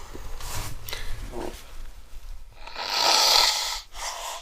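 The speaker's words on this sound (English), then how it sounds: "I'm going to blow my nose." A person blowing their nose, a few short snorting breaths followed by a sustained, loud, rushing honk near the microphone, heard alone without talk.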